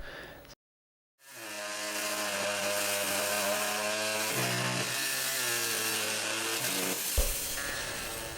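Power tool cutting through metal to remove the fuel filler assembly from a Jeep JK 4-door, a sustained whining, grinding cut after a brief silence, with pitch shifting as the load changes.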